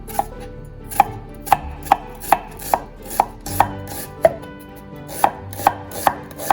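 Knife julienning onion on a cutting board, a series of about a dozen crisp, sharp chops at a brisk, slightly uneven rhythm, close and clear with no talk.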